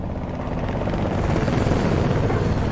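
A military helicopter and jet pass overhead in a film scene: a steady, loud, dense rumble with a churning rotor texture, sustained and unbroken throughout with no voices.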